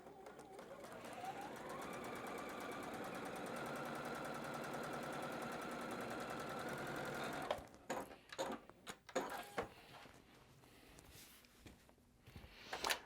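A sewing machine runs in one steady, continuous burst while stitching fabric strips for a log cabin quilt, then stops and gives way to someone talking over light handling noises.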